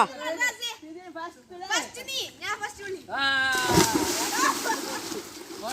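Children at a swimming lesson shout and call out excitedly, then a loud splash and continued sloshing of water follow as they jump in.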